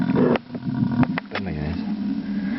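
An engine that has just been started runs with a steady, low, continuous hum while someone talks close by.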